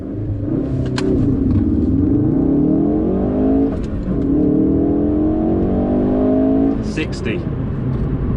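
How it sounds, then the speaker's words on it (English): A 2017 Ford Focus RS engine revs hard in a 0 to 60 run and climbs through several gears, pitch rising and dropping at each shift, loud and close with brief voices over it. "It would be rude of me not to try a 0 to 60 test"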